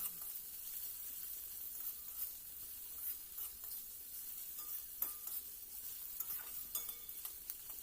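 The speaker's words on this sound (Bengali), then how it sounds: "পেঁয়াজ আর কাঁচা লঙ্কাটা একদমই বেশি ভাজা যাবে না" Onion and green chili frying in a pan for a vegetable masala Maggi noodle dish, a steady soft sizzle with occasional stirring scrapes running throughout, close and fairly quiet.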